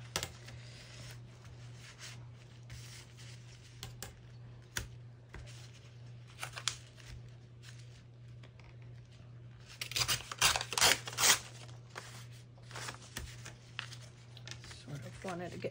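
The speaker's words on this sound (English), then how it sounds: "Sometimes these little pieces are hard to tear without going wonky." Small pieces of paper being torn by hand for a journal page, with soft intermittent rips and a denser burst of tearing partway through, close up over a low steady hum while someone talks.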